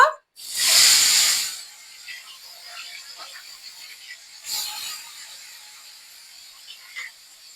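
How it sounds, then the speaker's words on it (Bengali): Fish dropped into hot mustard oil in a wok (kadai) gives a loud, broad sizzling hiss that rises sharply and fades over about a second. It then settles into a quieter steady frying crackle, with a second hissing flare a few seconds later. "তেল গরম হয়ে গিয়েছে, এখন আমি মাছগুলো দিয়ে দিব।"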